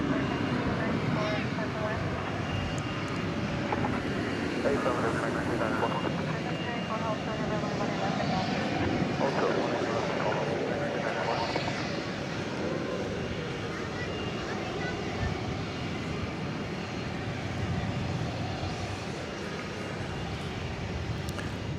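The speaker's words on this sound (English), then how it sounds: "American Flight 348 to Santa Ana, California, and Airbus A321neo" An American Airlines Airbus A321neo at DFW Airport on a warm, breezy night, a moderate, sustained jet rumble that holds steady throughout, with a voice speaking over it.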